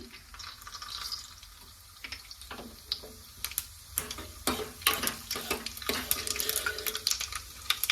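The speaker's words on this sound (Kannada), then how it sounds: "ಎಣ್ಣೆ ಕಾಯ್ದಿದೆ ಇವಾಗ ಇದ್ರೊಳಗಡೆ ನಾನು ಸಾಸಿವೆ ಮತ್ತೆ ಜೀರಿಗೆನ ಹಾಕೊಳ್ತಾ ಇದ್ದೀನಿ" Mustard and cumin seeds dropped into hot oil for buttermilk rasam, starting as a soft sizzle and building into rapid, irregular crackling pops that grow denser toward the end.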